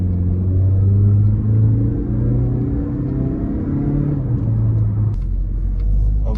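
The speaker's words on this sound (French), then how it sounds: "Je vais essayer encore une petite accélération." A 2016 Mazda CX-5 with a Skyactiv engine accelerates in sport mode, a steady loud low engine rumble and road drone heard from inside the cabin, rising and falling slightly with no speech.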